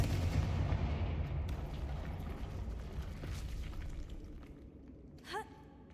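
A Confringo fire spell in the Hogwarts Legacy video game bursts with a heavy, rumbling blast that swells and slowly fades, followed by a brief bright whoosh near the end.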